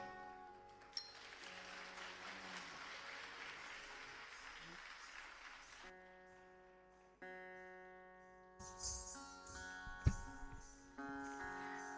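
Audience applause fills the hall after a Bharatanatyam dance item at an arangetram, steady clapping for several seconds that then gives way to music and a few louder claps.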